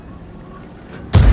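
After a quiet moment, a single loud booming tank cannon blast in a video game erupts suddenly, heavy and close.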